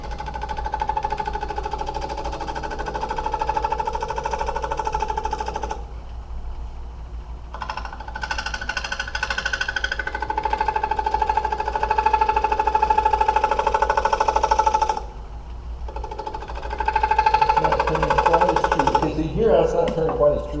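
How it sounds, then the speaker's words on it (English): Shear scraping wood on a lathe gives a continuous whirring hum with a scraping, buzzing tone, pausing twice briefly, while someone talks alongside. "We're going to shear scrape it, but we can shear scrape it from this side."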